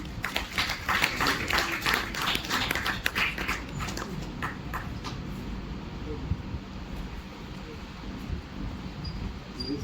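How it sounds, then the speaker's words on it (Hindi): An audience at a World Environment Day event at a science centre claps, with scattered clapping over the first few seconds that thins into faint room murmur and background chatter. "आदिरथ मदनकर के लिए तालियां बजाएंगे प्लीज।"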